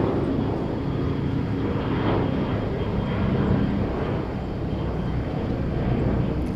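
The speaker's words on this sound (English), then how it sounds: "that was a Korean Air cargo flight, not passenger" A Korean Air cargo jet at Incheon airport roars steadily and loudly, its engine noise a continuous broadband rumble that holds throughout with no talk over it.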